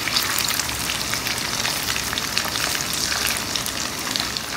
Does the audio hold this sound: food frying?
yes